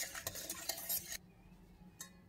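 A spoon stirs yeast and sugar into warm milk in a bowl, making a few quick scraping clinks against the sides, then a pause and one last faint scrape.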